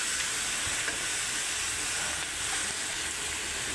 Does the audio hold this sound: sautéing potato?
yes